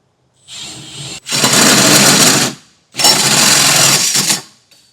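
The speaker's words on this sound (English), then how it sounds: "we're going to step it up to our 4-inch hole saw." A 4-inch hole saw grinds loudly through a 2024 Chevrolet truck bed in two long bursts, a short whirring start then harsh, rough cutting noise, close up.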